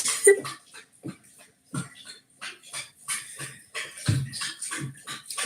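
A dog whines and whimpers in a series of short, uneven bursts, close and moderately loud, mixed with snuffling breaths.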